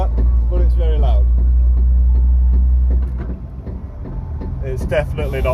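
A BMW drift car with a snapped driveshaft limps along the road. The engine and drivetrain drone loud and low inside the cabin, easing off partway through, while a person talks over the noise.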